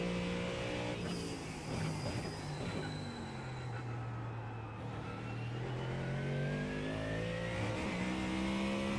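GT3 race car engine in the iRacing sim, a steady droning whine with shifting pitch that rises and falls continuously through the whole stretch, loud and close with no talk.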